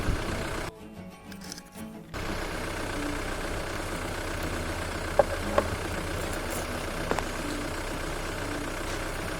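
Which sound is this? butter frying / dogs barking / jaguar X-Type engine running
jaguar X-Type engine running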